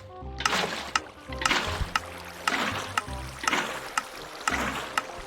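Minecraft water flows and splashes in repeating bursts, about five or six surges, each opening with a sharp tick, over a continuous rushing wash, fairly close and steady.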